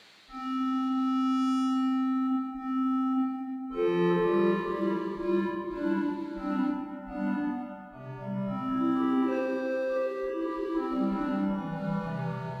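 A pulse synth in Sonic Pi is played from a MIDI keyboard, starting with one long sustained buzzy note and then moving into layered chords and changing notes, loud and continuous with no talking.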